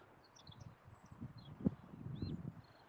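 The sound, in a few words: birds singing in countryside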